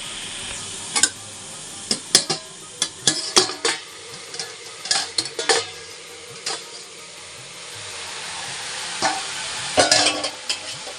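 Bay leaf, dried red chilli and cumin seeds tempering in hot oil, a steady sizzle broken by frequent sharp crackles and pops, with occasional stirring scrapes, close and fairly loud, no talking.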